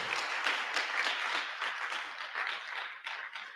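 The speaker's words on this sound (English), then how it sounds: "Let's clap for them." Dense, close audience applause at a book launch closing session in Kenya, continuous clapping that holds steady throughout.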